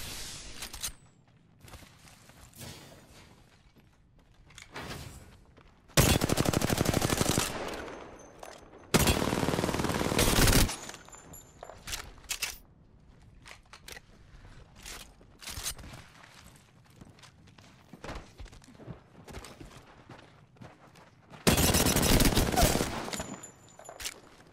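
Gunfire in the Apex Legends battle royale game, heard as several loud bursts of automatic fire alone, separated by quieter stretches of footsteps and small game sounds.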